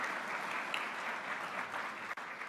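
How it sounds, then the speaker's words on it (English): Audience at a university employee recognition award ceremony giving steady, dense applause for student award winners, filling the short moment evenly with no voices. "another round of applause for Jess Seidel and Mary Tyler, our student award winners, with us here today."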